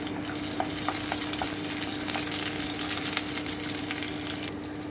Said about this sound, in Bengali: এবার এই আলু ভাজার তেলে আমি প্রথমে রসুনটা দিয়ে দিচ্ছি আমি হালকা একটু ভেজে নিচ্ছি